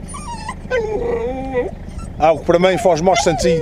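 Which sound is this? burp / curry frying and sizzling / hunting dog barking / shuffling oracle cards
hunting dog barking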